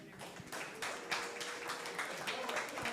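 An audience gives a round of applause at a podcasting and content creation workshop, a steady patter of many hands clapping that sounds faint and distant throughout.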